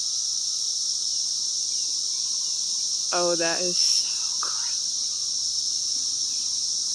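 Cicadas in a 2021 brood, dead and alive, crawling over each other, give a steady high-pitched drone throughout, while a person speaks briefly over it.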